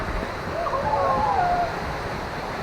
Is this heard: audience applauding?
no